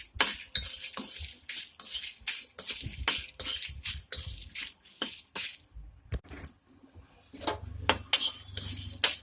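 Whole spices and dried red chillies roasting in a pan for a prawn pulao masala, with quick rhythmic spatula scrapes and clinks against the metal pan, close and fairly loud, pausing briefly before resuming.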